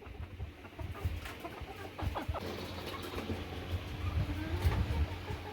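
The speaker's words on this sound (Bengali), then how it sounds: "এটা হচ্ছে কর্নিশ ব্যান্থাম জাতের মুরগি" A Cornish bantam chicken clucks in short, scattered bursts nearby, with faint background noise underneath.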